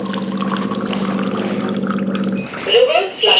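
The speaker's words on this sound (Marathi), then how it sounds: "प्लस मी ह्या ग्लासमध्ये पण पाणी घेणार आहे" An alkaline water machine runs with a steady humming tone for a couple of seconds, then brief splashing as water is poured into a glass.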